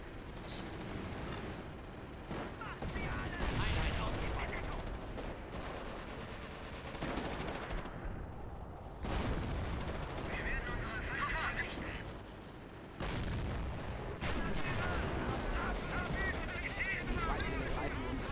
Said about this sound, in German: jetzt fängt das Flakfeuer an hier